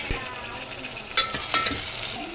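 Onions, green chilies and tomato fry in oil in a pan, giving a faint, steady sizzle with a few brief stirring clinks and scrapes, no voices.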